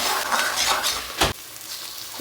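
Dried fish (shutki) frying in a pan hisses with a close sizzle, broken by one sharp utensil scrape midway before the bubbling settles quieter.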